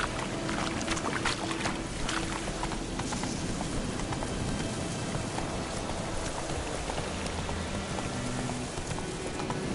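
Roach, a horse in the video game The Witcher 3, trots with steady hoof clip-clops running throughout, set against a dense, constant backdrop that sounds like rain or water.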